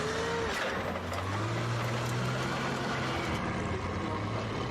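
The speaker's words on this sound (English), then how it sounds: "Heavy armored fighting vehicles." Heavy WWII armored fighting vehicle engine, a loud, steady low rumble with a droning tone throughout, dense and unbroken like a big motor running close by.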